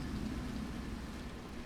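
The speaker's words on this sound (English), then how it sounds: "it's raining." Steady rain pours in the Ao Oni video game, a dense, even wash of rainfall with a low rumbling undertone, continuous throughout.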